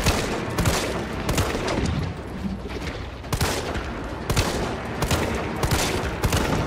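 Pistol gunfire in the Resident Evil 3 Remake video game, a run of sharp, loud shots fired at irregular intervals over a dense, noisy game background.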